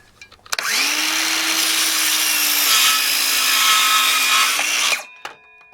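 Dewalt DCS391 cordless circular saw spinning up and cutting, a loud, sustained whine with a rising motor tone for about four seconds, then winding down abruptly.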